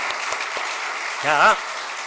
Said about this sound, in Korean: 하나님의 신 성령님께 영광의 박수를 한번 올리십시다